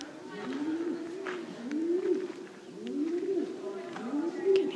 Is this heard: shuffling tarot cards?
no